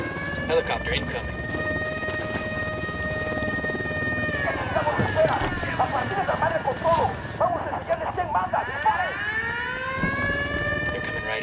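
A wailing alarm siren blares in the video game Ghost Recon Wildlands, steady rising and falling tones running through the clip amid gunfire and combat noise, with voices talking over it.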